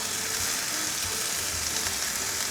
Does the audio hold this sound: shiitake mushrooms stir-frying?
yes